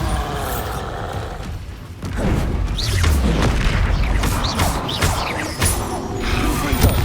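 Bombarda blasting spell explosions from Hogwarts Legacy combat, with a heavy booming blast near the two-second mark followed by sustained rumbling crashes and debris under dense battle noise.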